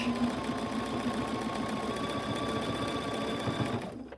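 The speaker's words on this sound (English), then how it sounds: "So then I just go and I top stitch" A sewing machine runs steadily while top stitching along the edge of a fabric face mask, a close, continuous rapid mechanical whir that stops abruptly at the end.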